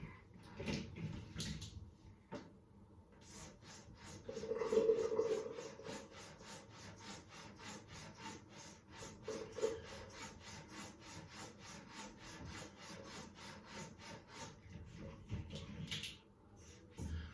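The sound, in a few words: stropping a Filarmonica straight razor on a leather strop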